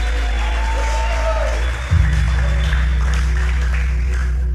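A church congregation applauds and cheers for the worship team, a broad wash of clapping and whoops under a voice speaking over a microphone.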